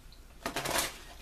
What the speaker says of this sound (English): So I'm shuffling the cards, and now I'm going to shuffle them my other way.